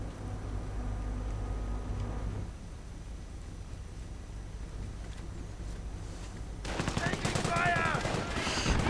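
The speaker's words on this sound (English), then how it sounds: "17-pounder gun and a Vickers machine gun." A 17-pounder anti-tank gun and a Vickers machine gun firing in a World War II strategy video game, with muffled battle gunfire and rumbling under a steady noisy bed, brighter bursts of rapid fire near the end.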